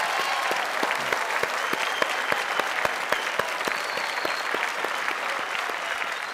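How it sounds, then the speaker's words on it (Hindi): Studio audience applause on a Bhojpuri TV quiz game show after a contestant's big win, with sharp individual claps standing out over a steady crowd roar, loud and sustained. "तालियां सबके लिए।"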